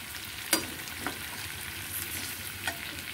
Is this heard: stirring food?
yes